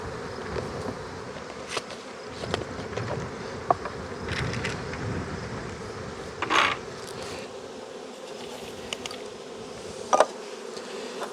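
Honey bees buzz close by as they are tipped and dumped into a cup for testing, a faint continuous insect hum with a few brief clicks and knocks of the handling gear.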